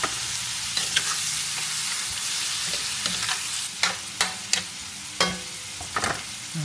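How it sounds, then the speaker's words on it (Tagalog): Liempo pork belly sears in a pan alongside tomatoes and sausage for pochero, with a constant close sizzle broken by repeated scraping stirs, with no voices. "habang nagsisir tayo, nagigisa tayo ng pork"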